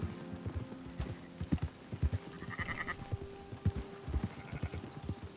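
Sheep bleat amid steady horse clip-clop hooves while riders herd a flock in Red Dead Redemption 2, with short bleats scattered over the rhythmic trotting and a faint engine-like drone underneath.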